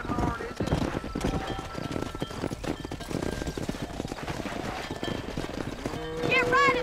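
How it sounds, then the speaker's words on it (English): Cattle and horses driven along a road in Red Dead Redemption, with a dense, continuous clatter of hooves and a horse neighing near the end; voices and shouting are mixed in. "Herd the cows down the road!"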